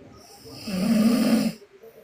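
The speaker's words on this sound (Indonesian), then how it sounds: "Orang biasa apa siapa ini yang ngorok ini?" A person gives a single drawn-out snore lasting under a second, a low rasping rumble close to the microphone, followed by quiet.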